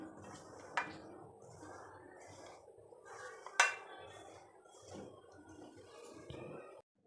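Kachori dough ingredients being mixed in a bowl give soft, steady scraping and rubbing with a couple of sharp clinks against the dish, close and fairly quiet, with no talking.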